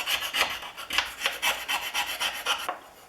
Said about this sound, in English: the first thing I'm going to do is scrape them with my scraper